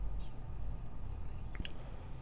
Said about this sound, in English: I hope the scissors were good, sweetheart.